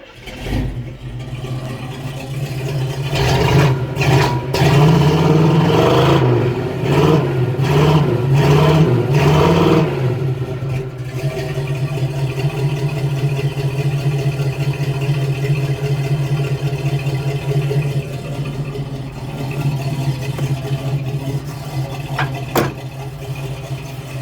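A 1969 El Camino engine with an oversized carburetor revs hard in several rising, wavering bursts for about ten seconds, then settles into a steady, lumpy idle that runs to the end.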